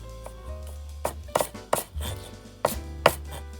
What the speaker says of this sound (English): I've got 3 scallions here, and I'm just going to slice those along the bias.